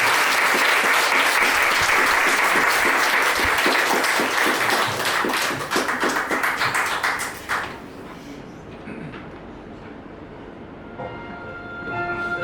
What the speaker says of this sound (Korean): 축가자가 올라올 때 큰 박수와 환호 부탁드립니다